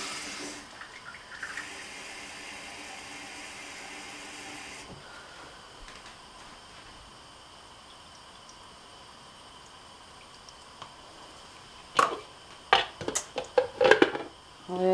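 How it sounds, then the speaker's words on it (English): Water runs steadily into a pot for several seconds, then fades to near quiet before a few sharp metallic clanks near the end. "And then I need to add my water."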